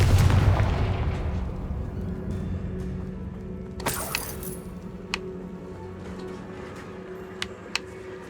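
Casting Confringo in Hogwarts Legacy sets off a loud fiery blast at the start that fades into a low rumble. A sharp crackling burst comes midway, followed by a few faint clinks and pops.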